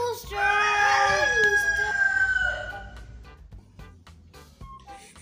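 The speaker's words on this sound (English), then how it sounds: "R for rooster." A rooster crows loudly and close with a long drawn-out call, then fades, followed by softer background sounds and a brief voice.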